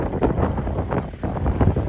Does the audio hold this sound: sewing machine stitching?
no